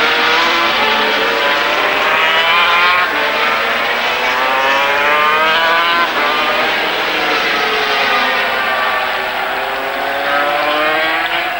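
Racing motorcycles at the 24-hour endurance race finish, popping wheelies as they arrive: loud, sustained high-pitched engine wail with rising and falling revs, close and continuous, no talk.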